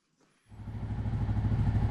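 A TGB 550 Blade ATV engine starts after an oil change: a brief quiet whir, then it catches and settles into a loud, close, steady chugging idle that builds slightly, with no talking.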